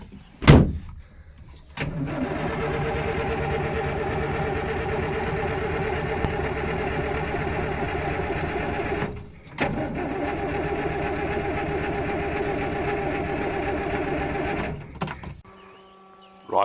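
A 1980 Land Rover Series 3 109 cranks briefly, catches and settles into a steady, loud idle close by, with a short dip mid-run before it picks up again and cuts off near the end.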